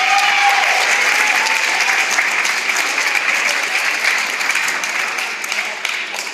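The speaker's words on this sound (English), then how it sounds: "Give your parents a round of applause." Sustained applause from a high school concert band winter concert audience, with dense, steady clapping that stays loud throughout and eases slightly toward the end, with no talking over it.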